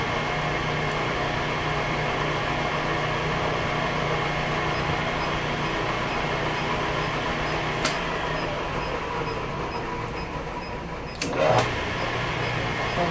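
A machine tapping threads into a hole in a spacer for the lower pulley of a Ford engine, a steady drone throughout with a brief sharp clank and whine near the end.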